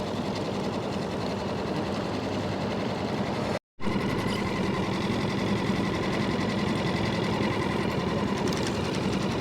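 A fishing boat's motor runs steadily at close range, a dense continuous mechanical drone with a fast rhythmic chatter, broken by one brief dropout.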